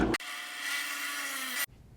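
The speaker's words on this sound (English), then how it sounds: "now I'm going to take a 1/2 inch drill bit and I'm going to drill right where we made that one punch mark" A power drill with a half-inch bit bores into wood in one steady, close burst of about a second and a half, its motor whine constant, with abrupt starts and stops at either end.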